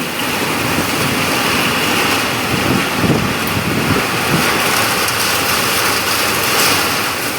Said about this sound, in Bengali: প্রচণ্ড পরিমাণে বৃষ্টির দাপট দেখাচ্ছে